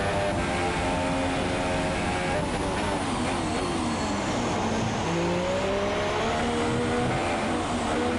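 Racing car engine in a Formula One style game at Abu Dhabi, loud and continuous with pitch sweeping up and down as it revs, a voice talking over it.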